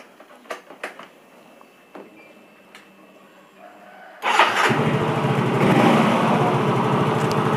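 A Yamaha motorcycle engine is restarted after an error-code check: a few faint clicks and taps, then a sudden crank-and-catch and a steady, close idle that holds to the end.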